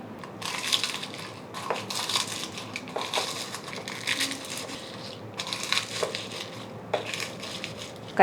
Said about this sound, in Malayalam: ആദ്യമേ മുളകൊന്ന് ചതച്ചെടുക്കാം